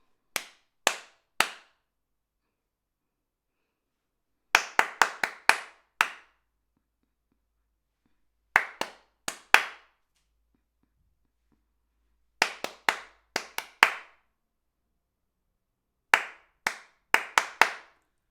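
A single person claps out short rhythmic patterns for others to copy, each a crisp, close cluster of three to six sharp hand claps separated by several seconds of silence.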